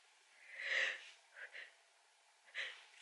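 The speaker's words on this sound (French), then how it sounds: "Moi, je vais éternuer." A woman sneezes quietly indoors in the evening: a soft drawn-in breath building into a brief sneeze, followed by a couple of small sniffing breaths, faint and close.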